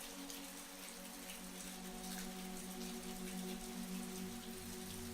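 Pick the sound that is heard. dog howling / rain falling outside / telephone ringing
rain falling outside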